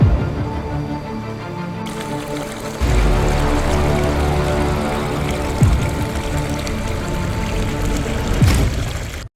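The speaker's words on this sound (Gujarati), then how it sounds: "ધીમી ગતિએ વહેતું પાણી" Stream water flows near a Khodiyar temple at Galdhara beside forest, a loud, steady rushing wash that swells after a few seconds and continues without speech.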